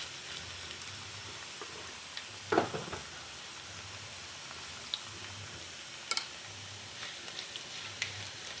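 Urad dal sizzles in hot oil in a pan, a soft steady frying hiss with a few sharp pops and crackles scattered through it, fairly faint and with no voices.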